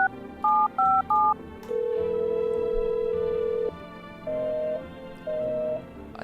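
Telephone keypad tones in a video game: three short beeps in quick succession, then a long steady tone, then two shorter tones spaced apart, all clear and close with no talking.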